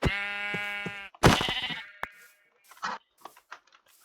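Minecraft sheep bleating twice in a row, each bleat loud and wavering, followed by scattered soft clicks and small thuds, with no talking.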